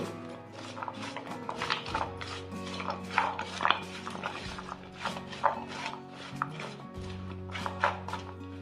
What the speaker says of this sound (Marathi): आता हे सर्व आपण छान मिक्स करून घेऊ।